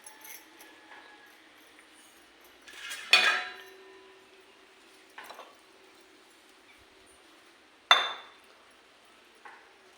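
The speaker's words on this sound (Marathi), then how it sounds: "त्याच्यावरती झाकण ठेवू आपण आणि पाणी ठेवूया एक ग्लास" Metal lid set down on a cooking pot among kitchen dishes: a few sharp, ringing clinks spaced several seconds apart, close by against a quiet background, the first and one later strike loudest with lingering ring.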